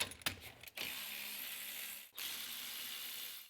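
A ratchet clicks rapidly while loosening the 14 mm front brake caliper bolts on a 2013-2017 Subaru Crosstrek. A few sharp clicks come first, then two sustained bursts of fast ratcheting split by a short pause, close and fairly quiet.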